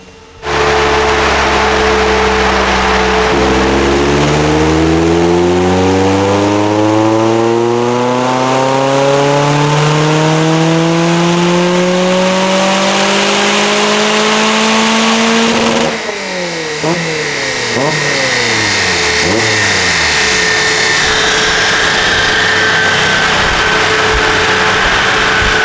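A Lotus Elise 250 Cup engine and exhaust rev up loudly and close, pitch climbing through the gears, then crackle and blip through lifts and downshifts, with an airy blowing note from the restrictive silencer.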